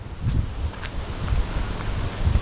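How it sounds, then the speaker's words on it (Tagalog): Steady roaring wind buffets the microphone, with low rumbling gusts and rustling throughout, no voices. "Malakas ang hangin."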